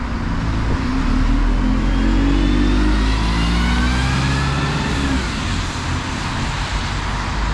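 A West Midlands bus on the X1 route toward Birmingham International drives with its engine running loud and close, the engine note climbing steadily as it accelerates over constant road rumble.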